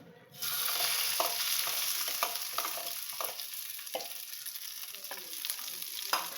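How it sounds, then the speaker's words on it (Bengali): Green peas drop into hot oil left from frying potatoes for matar nimona, bursting into a loud sizzle. Rhythmic spatula scrapes and taps sound about once a second as they are stirred. "এই তেলেই আমি এই যে যেটা বেঁধে রেখেছিলাম মটরশুঁটিটা সেটা দিয়ে দেব"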